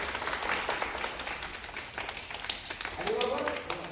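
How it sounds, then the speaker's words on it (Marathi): A group of people clapping at a Mahindra car showroom, a loose scattered applause under lively voices and chatter nearby. "वाजवा टाळ्या, वाजवा टाळ्या."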